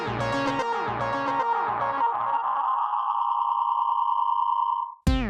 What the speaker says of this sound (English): a robust and very retro-sounding delay that can be simple and basic all the way to a dub and tape style with infinite feedback